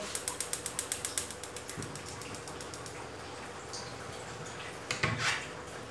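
A cooking stove being lit starts with a rapid run of sharp clicking ignition ticks that slow and fade, followed by a soft hiss and a brief louder whoosh near the end.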